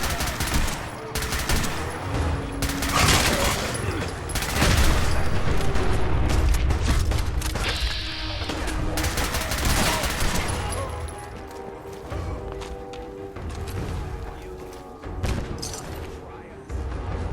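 Fallout 4 combat with heavy gunfire: repeated shots and rapid automatic bursts, loud and close, mixed with booms and thuds, while voices speak intermittently over the fighting.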